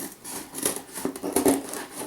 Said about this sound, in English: we're going to get some scissors. And we're going to cut that out.